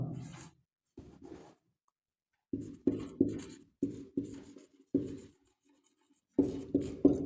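Pen or pencil writing a sentence by hand, a close dry scratching in short bursts and strokes with brief pauses between words, alone without talk.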